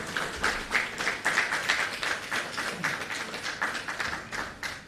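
Audience clapping to welcome a speaker at a public-sector launch ceremony, a modest group applauding in an uneven patter, fairly quiet and continuous for several seconds.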